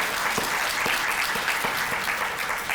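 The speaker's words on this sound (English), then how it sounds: "Another round of applause for everybody that spoke." A conference audience at a Sacramento business-resources event applauds its presenters, a steady wash of many hands clapping at even loudness throughout, with no voices over it.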